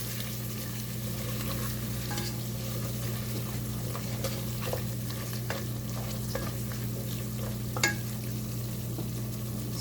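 Mutton with spices and turmeric powder is stirred in a pot, giving soft scrapes and occasional clinks over a steady low hum and faint sizzle. A louder knock comes near the end, and no one talks.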